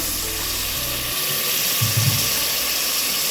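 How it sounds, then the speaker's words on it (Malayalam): A splash of water is poured into a hot pressure cooker holding frying masala and tomatoes for veg biryani. It makes a short gurgling pour and a fizz of steam, close and with no voices. "ഇപ്പോൾ കുക്കറിന് നല്ല ചൂടുള്ളതുകൊണ്ട് ഞാൻ കുറച്ച് വെള്ളം ഒഴിച്ചു കൊടുക്കാം"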